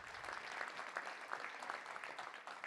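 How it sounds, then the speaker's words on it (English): Audience applause at a Little Rock Touchdown Club luncheon for a sponsor, a steady, moderately faint wash of clapping with no pauses across the short stretch. "Let's give him a big round of applause."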